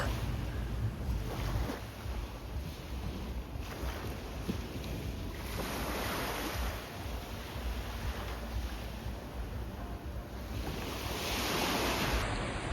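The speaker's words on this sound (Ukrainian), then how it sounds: "Це пляж від нашого готелю. Тут проходять вечірні заходи різні, а ми просто познімали море трохи." Sea waves wash steadily onto a hotel beach in Turkey at night, a continuous broad rush of surf with gentle swells and some wind noise on the microphone, with no voices.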